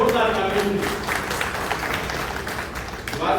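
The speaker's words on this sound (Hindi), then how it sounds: "सभागार में उपस्थित सभी जाने पर जोरदार तालियां" Loud applause from an audience in an auditorium at a public function, a dense wash of clapping over a few seconds with voices and hall noise blended underneath.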